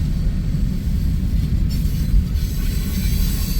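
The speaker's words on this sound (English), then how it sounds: "I believe this train is Des Moines to Council Bluffs." Freight train on the Des Moines to Council Bluffs line rolls past close by, a steady loud rumble of railcars and wheels on track with faint squealing, no voices.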